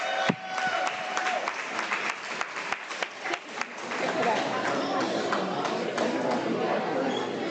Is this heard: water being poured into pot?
no